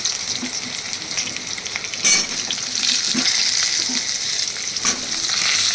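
Ridge gourd sizzles steadily in a hot pan, with occasional clinks and scrapes of stirring, close and continuous.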